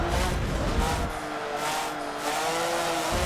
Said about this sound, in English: So you can actually hear the tires squeal, and that's how you know you're losing a bunch of grip.